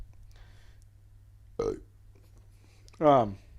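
Two separate burps during a casual podcast chat: a short one, then a louder, longer, croaking belch a moment later, both close against a quiet room hum.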